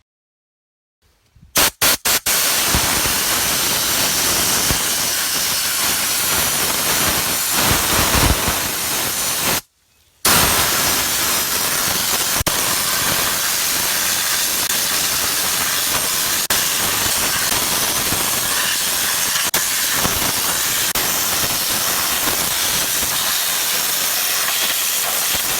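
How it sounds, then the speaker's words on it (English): Bead blasting an aluminum wheel that is being polished to look like chrome, a loud unbroken roaring hiss of blasting media, with one short pause partway through before it resumes. "bead blasting is done"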